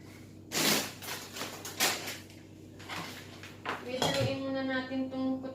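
Potato and mushroom soup stirred in a pot, with clattering of a utensil against metal and a few knocks and scrapes, close by, while someone talks over it.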